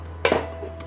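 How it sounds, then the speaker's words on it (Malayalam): A lid goes onto a cooking pot with one quick metallic clank and a brief rattle as it settles, close and alone over a low steady hum. "നമുക്ക് പാത്രം അടച്ചിടാം"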